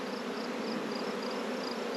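Dense, steady hum of many honey bees crowding a hive frame with drone brood and queen cups, a continuous close buzz with no pauses.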